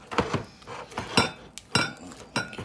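Cake batter for honey bun cake scraped and mixed by hand in a bowl, with a utensil knocking and scraping against the sides in uneven strokes, close and moderately loud.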